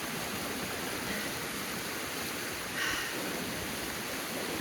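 A flooded stream on a rain-soaked Appalachian Trail rushes and gushes in a steady, dense roar of white water, constant and fairly faint, with no talking.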